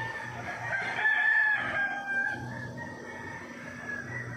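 A rooster crows nearby at dawn, a drawn-out call rising over steady outdoor background noise with no one talking.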